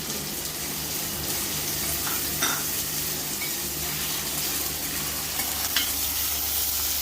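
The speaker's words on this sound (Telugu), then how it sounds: "లైట్గా పచ్చి వాసన పోయేంత వరకు అలా వేయించుకోవాలి." Onions and green chillies frying in a pan for a village-style country chicken curry, a continuous soft sizzle with occasional stirring scrapes, close and steady with no voices.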